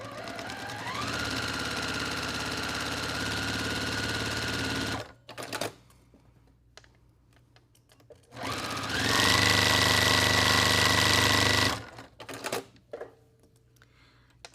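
A sewing machine fitted with a 1/4 inch foot stitches a quilt block in two long, fast, steady whirring runs, close and loud, separated by a quiet pause with small handling noises.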